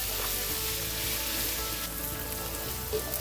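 Onions and cashew nuts frying in ghee for a rice stir fry, giving a steady, dense sizzle that stays close and even throughout, with no voices.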